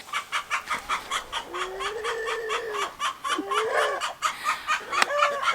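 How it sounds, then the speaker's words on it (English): An Australorp hen cackles after laying an egg in a backyard vegetable garden with a shade house. She repeats rhythmic clucks and drawn-out squawks, loud and close, with no talking. "That is our chicken announcing to the neighbourhood that she has just laid an egg"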